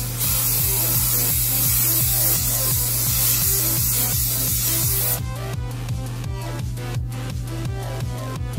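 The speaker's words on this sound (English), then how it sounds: "we're going to take some setting spray. I prefer to use Kryolan's fixing spray. It seals, it's in an aerosol can." Kryolan setting spray hissing from an aerosol can, a steady continuous spray close up and alone, then breaking into rapid short bursts toward the end.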